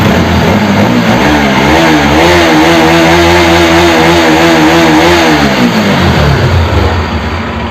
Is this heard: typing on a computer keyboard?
no